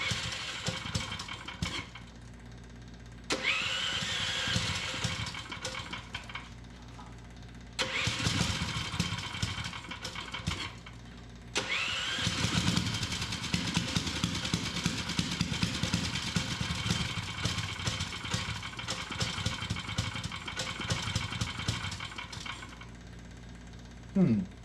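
An old golf cart engine cranks and catches several times, sputtering to a rough, uneven idle that keeps dropping out before restarting, close and fairly loud with a mechanical rattle.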